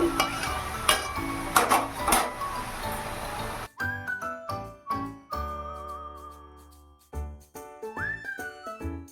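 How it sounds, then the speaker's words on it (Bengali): Greens fry in a wok tempered with dried chili and nigella seeds, starting with a dense close sizzle, then giving way to repeated scraping stir strokes and metal knocks against the pan. "এই কড়াইতে আবার শাক ভাজা চাপিয়েছি, শুকনো লঙ্কা আর কালো জিরে ফোড়ন দিয়ে"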